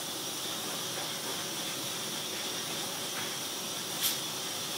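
A cheap no-brand airbrush compressor runs steadily while airbrushing, giving a constant, even hiss with one brief louder burst near the end; no one speaks.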